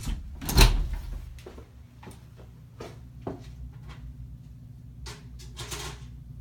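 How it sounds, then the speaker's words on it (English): A door shuts in an echoey room where a Hubbell electric heater is being tested. A solid thud comes first, followed by fainter clicks and taps that ring out in the reverberant space. "I should probably close the door so you can really get a sense of the echoey quality of it."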